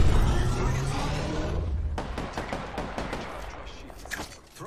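Gunfire in the battle royale video game Apex Legends, a quick string of sharp cracking shots under a noisy rumble, fairly loud, ending with a few scattered hits.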